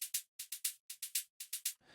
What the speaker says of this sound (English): I added another shaker sound that you can also find in the Daydream Organic